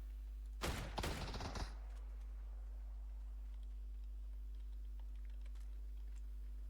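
Gunfire in the video game PUBG, a quick burst of rapid shots close by for about a second, then near silence with a steady low hum and faint scattered clicks.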